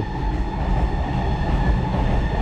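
Steady low rumble of a metro train rolling along the rails near Dum Dum, Kolkata, a continuous heavy drone with faint wheel noise and no voices.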